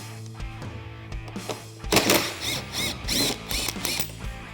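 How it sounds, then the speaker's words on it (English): Ratchet clicking as it works a T40 screw loose on a Polaris RZR Turbo S fender, rapid bursts of close mechanical ticking in several quick strokes with short pauses between. "remove this T40 screw"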